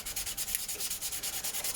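Steady back-and-forth hand sanding on a Tamiya King Hauler truck cab being modified into a Kenworth daycab, with even rhythmic rasping strokes, close and fairly loud, alone with no talk.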